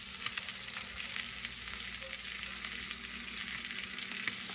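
Mashed potatoes frying in a pan, served alongside steak: a steady, close, continuous sizzle and crackle with faint spatula scrapes, no talking.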